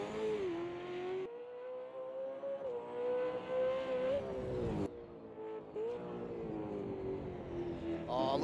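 Race car engine from a sim racing game at a virtual Bathurst 1000 top-ten shootout, roaring steadily near and loud, with repeated revs rising through the gears, brief drops at gear changes and a tire squeal, with no one talking.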